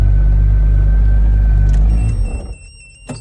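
Carbon RXC twin-turbo engine idling with a loud, steady low rumble up close, then shut off so the drone fades out over about a second, leaving quiet electronic tones and a faint click.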